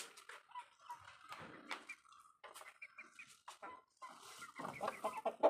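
Chickens being fed cluck and squawk repeatedly at close range in irregular bursts, growing busier toward the end.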